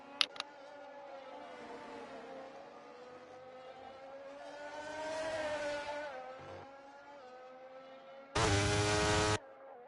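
Formula 3 race cars in a racing video game at Silverstone whine past with rising and falling engine pitch, a steady mid-loud drone of one or two cars, with a brief harsh burst near the end.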